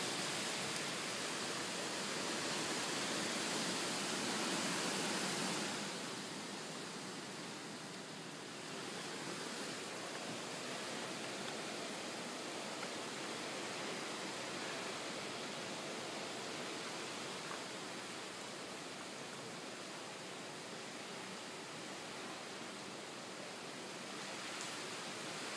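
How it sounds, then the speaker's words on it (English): Hurricane Irma's wind and rain roar as a steady, dense broadband wash indoors, louder over the first five seconds and then settling into a constant hiss with no talking. "You may hear the wind and rain in the background,"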